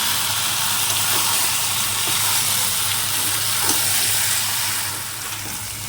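Mutton curry with fried potato and papaya sizzles in a pan, a loud, steady frying hiss that eases slightly toward the end.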